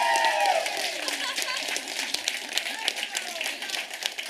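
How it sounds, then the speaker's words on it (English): An audience at a Ukraine House event in Davos applauds a photographer, dense clapping from a crowd that is moderately loud and fairly close. A voice rings briefly at the start, and the applause keeps going steadily afterward. "Let's applaud our photographer for creating memories of these 4 days."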